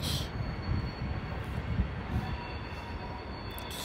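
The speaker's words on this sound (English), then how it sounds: "We got a train." A Norfolk Southern freight train led by AC44C6M locomotive #4444 rolls past close by, a loud, continuous rumble and clatter of wheels on rail with faint squeals throughout.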